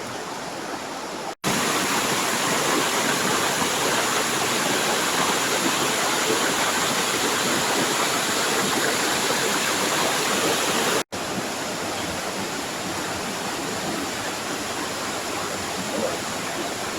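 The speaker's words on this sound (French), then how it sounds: "Et on continue jusqu'à la cascade." A powerful waterfall in a high-walled canyon roars in a constant, dense hiss and rumble, loud and close, with two brief cuts in the sound.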